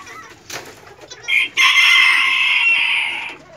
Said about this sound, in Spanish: Ahí tenemos al otro gallito.